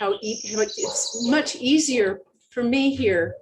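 Birds chirp outdoors in the background, light and intermittent, while a person talks steadily over them.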